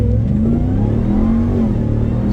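A Ram TRX pickup truck's engine drones loud and steady while it accelerates, a close, sustained revving roar that holds throughout without any talk.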